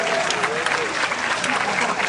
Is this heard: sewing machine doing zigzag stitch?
no